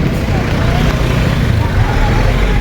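Road traffic rumbles steadily on Quirino Avenue near a busy public market in Novaliches, Quezon City: a continuous, dense roar of engines and vehicles with no clear break.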